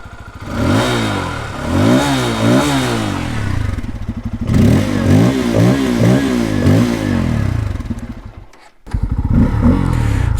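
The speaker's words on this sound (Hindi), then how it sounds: "इसका एग्जॉस्ट नोट सुन लेते हैं" A Bajaj Pulsar F250 motorcycle revs hard and close, its exhaust note rising and falling in repeated sharp blips, then cutting out briefly before the engine picks back up at a steady, loud idle.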